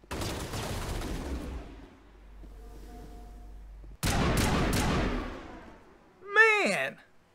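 Bursts of video-game gunfire from a Mass Effect Legendary Edition firefight, dense crackling volleys in two long stretches separated by a quieter gap, with a short warbling electronic sound near the end; voices talk during the action.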